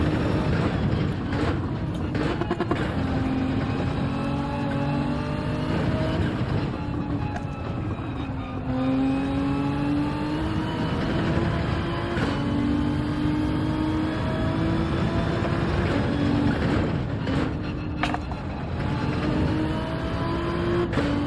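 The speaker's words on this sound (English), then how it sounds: "oh, hit the rev limit, that's annoying." Game car engine from Gran Turismo 7 winding up through the revs to the limiter, a loud, continuous, droning engine note rising in pitch in steady sweeps over about twenty seconds, with no talk.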